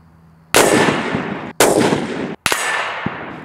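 A Bergara B-14 HMR rifle fires on a long-range shooting range: three loud, close blasts spaced about a second apart, each trailing off in a long rumbling echo.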